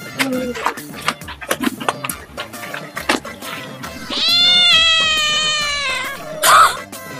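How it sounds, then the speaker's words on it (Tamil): A kitten that has fallen into a pond gives a long, loud, drawn-out meow near the end, following clattering noises and a voice talking. "பூனைக்குட்டி தண்ணியில விழுந்துட்டு இருக்கு பாரு"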